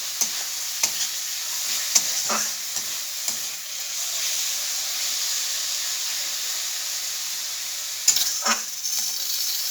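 Corn-leaf greens and eggplant fry in a pan with a steady, close sizzle and hiss, broken by occasional scrapes and taps of stirring.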